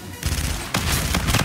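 FHR 40 gunfire in Call of Duty Infinite Warfare: loud, close bursts of rapid automatic shots, with a second volley after a short break.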